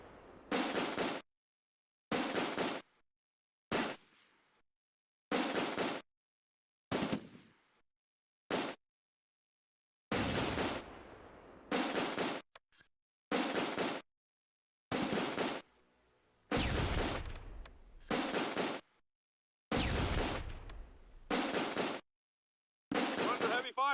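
Close-quarters gunfire and grenade blasts in the World War II strategy game Close Combat: A Bridge Too Far, heard as loud, abrupt bursts of shooting and explosions separated by short stretches of silence.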